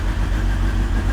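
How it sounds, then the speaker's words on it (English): BMW S1000XR motorcycle engine running steadily after starting, a loud continuous low rumble close by with no break across the short stretch. "Let's start the bike to see if they come on."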